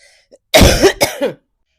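A short burst of harsh, chesty coughing, two or three rough hacks close together, loud and near, with a brief throat-clearing quality.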